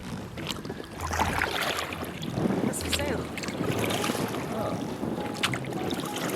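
A small boat being rowed on the Helford River, with oars dipping and splashing in a steady rhythm against wind noise; a voice speaks briefly.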